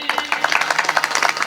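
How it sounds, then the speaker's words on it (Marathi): Rhythmic hand clapping from a kirtan audience at a Marathi devotional festival in Palshi, a steady series of sharp claps keeping time alone. "टाळी"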